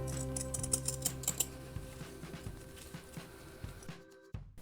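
Scissors snip through fabric for a handmade bookmark, a run of small crisp clicks and snips close by, steady and quiet, ending with a brief pause and one last cut.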